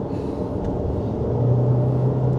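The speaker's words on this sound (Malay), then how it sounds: "70 ke atas kita boleh dengar bunyi tayar sedikit" Steady low road roar from inside a moving Jetour Dashing SUV above 70, a constant broadband rumble of tyres on pavement with a faint hum rising toward the end.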